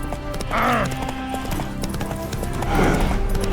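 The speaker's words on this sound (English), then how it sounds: "Spooking my horse." A horse in The Witcher 3: Wild Hunt, spooked by ghosts, whinnies twice, once early and once near the end, over a steady rumble of galloping hooves and busy background noise.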